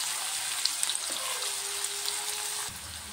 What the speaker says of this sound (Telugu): మొత్తం ఉల్లిపాయలు ఫ్రై అయ్యింది కదా